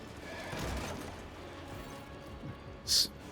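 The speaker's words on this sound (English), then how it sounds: "Snorting frantically, the horse hurtles towards the stable door and smashes straight through it." Horse in the video game Rogue Trader, a continuous low rumble of movement with scattered hoof-like thuds, then a short bright burst near the end as it crashes through a stable door.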